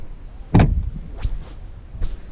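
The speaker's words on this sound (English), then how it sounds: "Listen to the sound of this door." The rotten, decaying door of an old Rover car in a classic car graveyard shuts with a solid close thump, followed by a couple of softer knocks and rattles.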